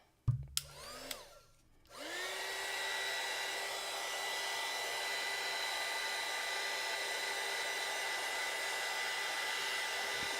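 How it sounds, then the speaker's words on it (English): A heat gun blowing steadily to dry a mixed media card, loud and close, with a continuous broadband whoosh and a faint whine holding unbroken after a couple of brief knocks and a short startup. "of drying it with the heat gun"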